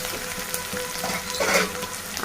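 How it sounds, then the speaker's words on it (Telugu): Mustard seeds and cumin sizzle and crackle in hot oil in a wok, a steady close frying hiss with a brief louder burst partway through, no voices. "ఇప్పుడు బాండీ పెట్టి ఆయిల్ పోసి హీట్ ఎక్కాక పోపు కింద ఆవాలు జీలకర్ర వేసాము"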